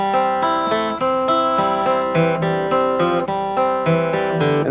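A bluegrass cross-picking roll is flatpicked on an acoustic guitar with the notes not held down, so they come out choppy. Rapid plucked notes ring in a steady, even rhythm, clear and close, with no talking.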